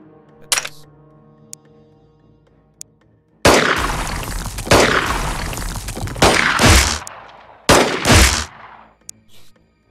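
Explosive blasts and gunfire from a Xenonauts game battle: a couple of sharp isolated shots, then a long loud roaring burst of detonations with further heavy bangs and a few trailing cracks.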